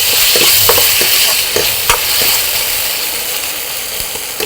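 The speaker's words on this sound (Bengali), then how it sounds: "রসুনের পেস্ট আর আদার পেস্ট দিয়ে আমি আবার এটাকে একটু ভাজা ভাজা করে নেব।" Garlic and ginger paste frying in a pan sizzles loudly and continuously, with a spoon scraping and stirring in several sharp strokes over the hiss; no one speaks.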